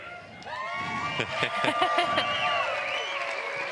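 Crowd at a pickleball stadium court in San Clemente during the PPA Finals applauds and cheers in a steady, dense wash of clapping, with whistles and voices rising above it.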